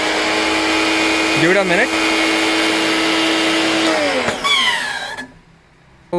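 Ibell Wind55 car pressure washer motor running with a loud, steady whine and broadband roar that cuts off near the end, with brief speech over it.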